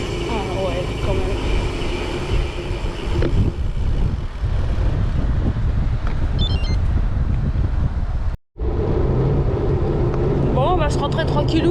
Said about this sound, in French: Il y a un vent, donc c'est un peu compliqué de faire ça en mode cool